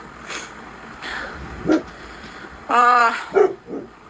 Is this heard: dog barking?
yes